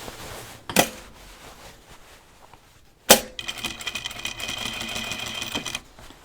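A sewing machine stitches through a denim jeans waistband at the machine head, with two sharp knocks first and then a steady run of rapid, close needle clatter for the last few seconds.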